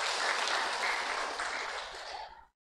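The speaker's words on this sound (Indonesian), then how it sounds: "Tepuk tangan buat dia itu." Sustained applause from a church congregation, a dense even wash of clapping hands that holds steady for over two seconds and then stops abruptly.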